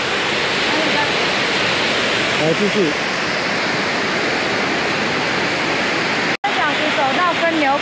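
A waterfall on a Hualien mountain trail roars loud and steady at close range, a dense unbroken rush of falling water. Someone speaks briefly over it, and the sound drops out for an instant near the end.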